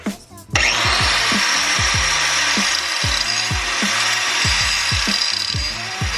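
A power tool grinds steadily to cut a straight line across a wheel, a loud continuous hissing whine over repeated low rhythmic pulses, close by and alone for about six seconds after a brief start.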